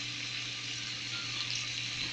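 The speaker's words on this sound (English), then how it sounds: "It takes too long to cook bacon." Bacon sizzles and fries in a pan with a constant crackling hiss and a low steady hum beneath, moderately quiet, and no one talks.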